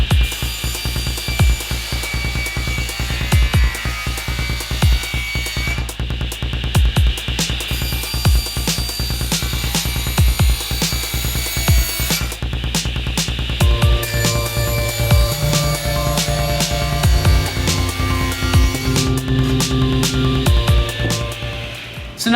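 Table saw rip-cutting boards to 5-inch widths for a finishing supply shelf, with a steady loud whine of the motor and blade cutting through wood, continuous and close with shifting pitch as the board feeds through.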